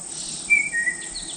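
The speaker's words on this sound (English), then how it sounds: "Not sure what bird that is." A thin whistled bird call, two short high notes over a soft background hiss, fairly faint and alone.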